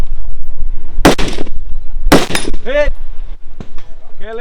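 Two loud, sharp gunshots about a second apart ring out during a stage of the Finnish Brutality 2024 shooting competition, followed by someone talking close to the microphone.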